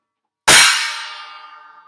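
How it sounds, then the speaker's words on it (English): Crash cymbals struck once, a loud bright clang that rings on and slowly dies away, heard alone. "Crashing cymbals make it very easy."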